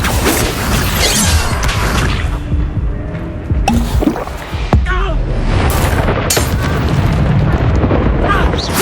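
Repeated Confringo explosion spells blast in Hogwarts Legacy combat, loud booms and crackling impacts amid dense battle effects, with a voice speaking throughout.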